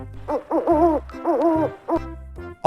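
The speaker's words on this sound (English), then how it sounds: "Owl." An owl hoots in a series of clear, close, rhythmic calls with brief pauses between them, heard alone without any talking.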